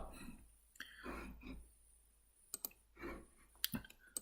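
A computer mouse double-clicks to launch AutoCAD: quiet, close, sharp clicks that come in quick pairs, with faint breathy rustling between them.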